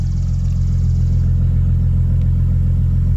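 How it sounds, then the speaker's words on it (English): A pearl white 2016 Ford Mustang V6 idles with a steady, deep low rumble, loud and close, holding an even tone throughout without revving. "Sounds really good, you know, a nice rumble. Even for a V6"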